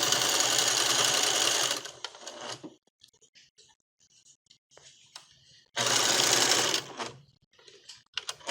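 A sewing machine runs a seam around a sleeve of a lacy flower girl dress in two loud, steady bursts, the first about two seconds and the second about one second, separated by quieter handling and rustling.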